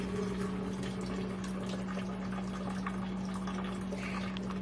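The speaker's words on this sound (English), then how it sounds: "to open it, and so drain all the water out" Steady rushing flow of water draining from a tankless water heater during a flush, continuous and fairly close, with a constant low hum beneath it.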